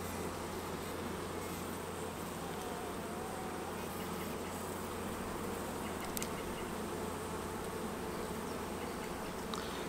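Steady, dense buzzing of many honey bees inside a hive during a comb change, a continuous close drone with no talking.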